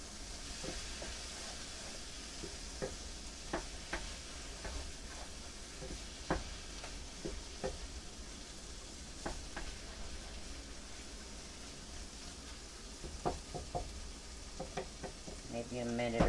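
Mushrooms and cauliflower with a little vegetable stock sizzle in a pan, a soft steady frying hiss broken by scattered clicks and taps of stirring, fairly quiet and close.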